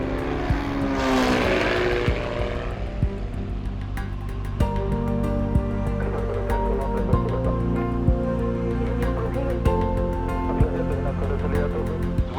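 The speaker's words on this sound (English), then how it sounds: "we were able to use the lake amphibious aircraft" Lake amphibious aircraft flying over the Peruvian jungle near Pucallpa, its propeller engine droning loudly and steadily from close by, with a brief rising whoosh near the start and faint clicks throughout.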